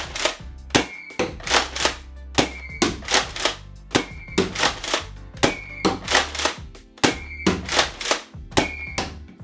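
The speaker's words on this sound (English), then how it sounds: "Let's fire the Dozer downrange for the very first time." A Nerf Mega XL Dozer shotgun-style revolver blaster fires sausage-shaped foam darts in a steady series of sharp plastic thunks and clacks, each shot followed by a brief priming rattle, close up and loud, with no talking.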